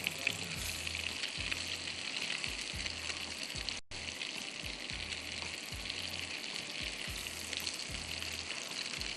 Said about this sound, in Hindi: बहुत तेज़ पे नहीं फ्राई कीजिए